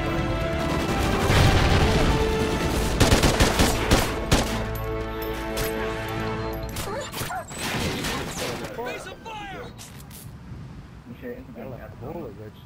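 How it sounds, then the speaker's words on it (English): Rapid SA 805 assault rifle fire in Call of Duty: Ghosts, with loud dense bursts and sharp repeated shots across the clip. Someone talks over the gunfire throughout. "this gun kills in like three shots up close"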